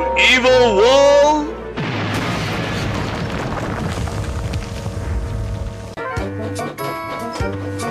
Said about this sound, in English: I will destroy you, evil wall.